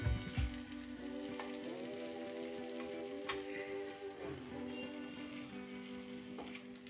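Masala okra fries in a pan as amchur powder is stirred in, giving off a soft, continuous sizzle with light crackles. A steady humming tone runs underneath.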